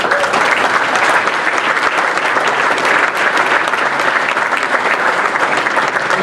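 A crowd at a baseball hall of fame induction ceremony in a Sheraton hotel in Indiana applauds the coaches in a steady, dense, even clatter that holds throughout.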